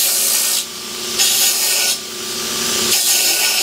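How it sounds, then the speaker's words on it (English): A belt sander grinds loudly against wood in repeated passes while shaping and sharpening tines, the abrasive rasp cutting in and out in several strokes. "sharpening our tines up a little bit on the sanding belt"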